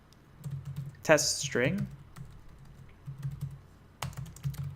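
Light clicking of fingers on a computer keyboard, close and quiet, in short runs under a man's brief spoken remark.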